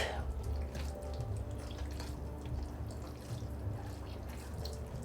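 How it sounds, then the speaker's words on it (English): Hot water sloshes and drips in a sink as a folded shave towel soaks, a steady close watery wash with faint trickles throughout. "I just fold it in half and put it in a sink full of hot water here."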